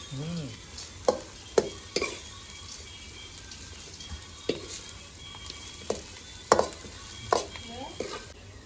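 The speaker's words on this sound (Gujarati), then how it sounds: "પેલા તેલ નાખ્યું, પછી લસણ નાખ્યું ને પછી ડુંગળી મરચી નાખી અને પછી ડુંગળી નાખી. હવે એને મસ્ત મજાનું પકાવવાનું." Onions, chillies and garlic frying in oil in a pan, stirred now and then: a steady soft sizzle broken by sharp, irregular scrapes and clatters of the spoon, close and fairly quiet, with no talking.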